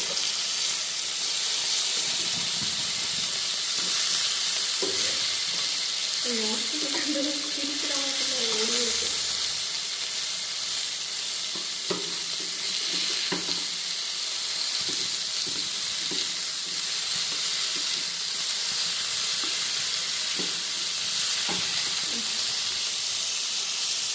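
Varutha fish (vatta) shallow-frying in hot oil in a pan, a steady close sizzle and hiss running throughout with occasional scraping clicks and a brief faint tonal squeak near the middle.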